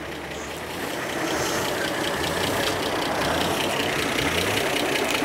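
An Armstrong Siddeley car engine ticks over at idle after chassis repair work, a steady close mechanical rumble and chatter that grows slightly louder after the first second and holds even, with no talking.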